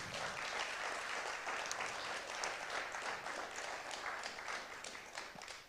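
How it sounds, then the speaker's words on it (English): A crowd applauds steadily for several seconds, a dense patter of clapping that holds even and then eases slightly. "a round of applause for Mike Stanton."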